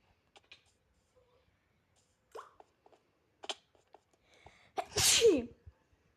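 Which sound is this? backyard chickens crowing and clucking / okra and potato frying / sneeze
sneeze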